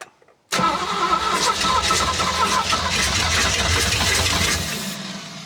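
A classic Ford Mustang engine cranks and catches after a moment of silence, then runs steadily at a loud, rough idle close by, dropping off slightly at the end.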